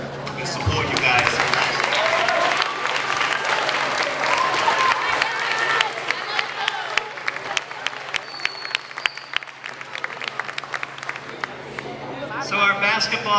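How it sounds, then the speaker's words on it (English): An 8th grade class and families applaud at a school moving-on ceremony, loud crowd clapping that thins out into scattered claps, with a voice speaking over it. "I need the whole 8th grade class to please stand up and give a round of applause to your family and"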